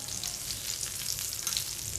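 Karli fish pieces frying on a tawa make a continuous, even sizzle, a dense hiss of hot oil that holds steady throughout at close range.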